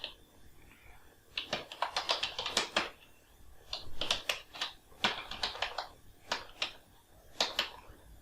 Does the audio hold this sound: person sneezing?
no